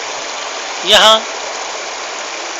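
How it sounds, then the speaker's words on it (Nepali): Water in a stream rushes and babbles in a steady, close, broadband wash at a cool, holy natural spot, with a single brief spoken word rising over it partway through. "यो हो प्रकृतिको कलकल।"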